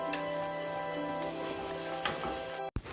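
Green peas masala curry bubbling in a pan as it comes to a boil, a steady close sizzle and simmer that runs on alone before a brief sharp knock near the end.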